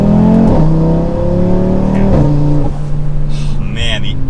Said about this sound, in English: Man, the effortless acceleration.